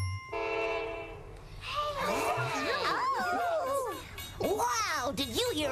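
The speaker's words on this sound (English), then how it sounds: "The choo-choo, choo-choo. The train." A train horn sounding at the start in a children's television programme, then swooping voices and singing fill the rest with busy musical sounds. The train and horn are clear at first, then fade under the voices.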